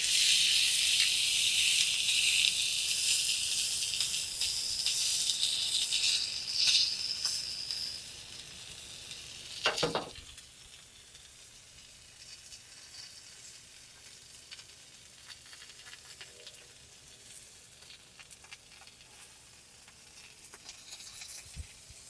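Steak sears on a Masterbuilt grill with a loud, bright sizzle for about ten seconds, then a sharp crackle as the meat is laid flat, after which the hiss drops to a faint, quiet simmer.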